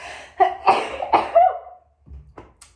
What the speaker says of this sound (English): I'm going to sneeze